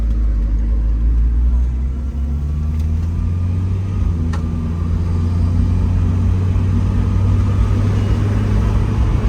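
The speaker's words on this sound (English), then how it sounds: "idle's a little high" A Volvo 242 Turbo idles a little high with a steady, deep rumbling hum, close and continuous with slight surging, and no talking over it.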